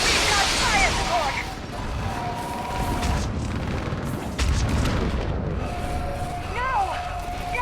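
Artillery fire support explodes in Mass Effect, a steady barrage of heavy booms and rumbling blasts under battle noise, with voices shouting over the din.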